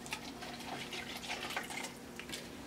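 A peach drink is poured into a cup, giving a faint, soft trickling splash with light drips, close by and steady.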